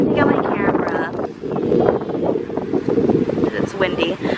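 Gusty wind at a beach in Maui buffets the microphone in loud, uneven rushes, with a voice speaking underneath.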